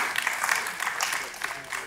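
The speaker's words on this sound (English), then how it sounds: "Let's have a huge round of applause for them, ladies and gentlemen" Audience applause welcoming the moderator of a panel discussion on the next wave of electronics, a steady patter of many hands throughout, moderately distant and fairly quiet.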